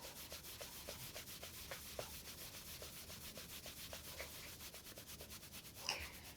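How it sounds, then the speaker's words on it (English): Hands rub firmly back and forth over the outside of the knee during a yoga therapy session, a soft, steady rhythmic swishing of regular strokes, quiet and close with no talking. "Just really rub the outside of the knee."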